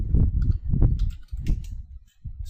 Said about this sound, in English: So I'll just type my config.